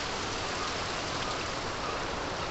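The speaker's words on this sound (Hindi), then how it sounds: "तो आज फार्म पे बहुत बारिश हो रही है" Heavy rain pours down steadily on a poultry farm, a dense, unbroken wash of drops that stays loud and even throughout, with no voices.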